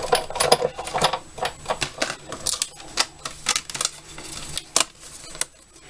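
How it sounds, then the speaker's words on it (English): White card run through a die-cutting machine with a banner framelits die, giving a close series of sharp mechanical clicks and clacks in an uneven rhythm, with no talking. "I'm just quickly going to die cut myself one of those."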